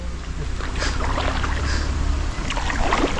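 Small boat paddled through water while fishing for snakehead, with steady sloshing and splashing of the paddle strokes close by against a constant low rumble of water and light wind.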